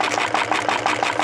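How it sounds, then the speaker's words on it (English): A DIY Stirling engine drives a homemade diaphragm water pump, giving a fast, even mechanical chugging pulse with a light rattle, close and steady throughout the short stretch. "when the engine is going on slower, it pumps a lot more water"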